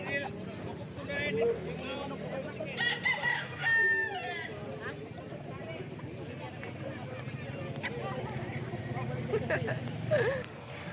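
Native roosters sold for cockfighting crow a few times in the background, partly masked by people talking nearby and a steady outdoor hum.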